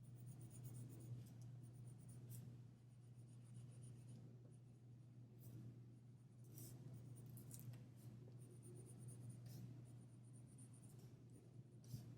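A pencil scratches across paper while drawing a flower card, with continuous soft strokes and occasional sharper scrapes over a steady low electrical hum, quiet and close.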